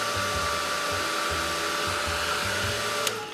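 A hair dryer blows steadily on a painted Bible journaling page, a loud continuous whooshing roar with a slightly pulsing low hum and no voices.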